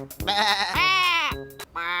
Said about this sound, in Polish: Zobaczmy, ile owiec się znalazło.